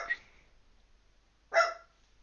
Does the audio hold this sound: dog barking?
yes